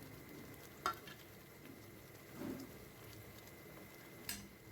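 Coriander powder frying in a pan for a chicken gravy, making a faint, steady low sizzle with a few soft scrapes and clicks and no talk.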